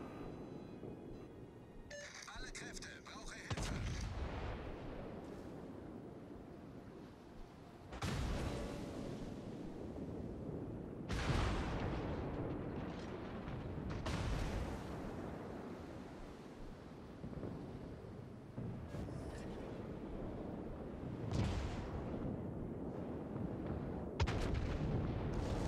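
Secondary guns on the German battleship Friedrich der Große firing in World of Warships, a run of heavy booming shots over a constant roar of wind and sea, loud and close.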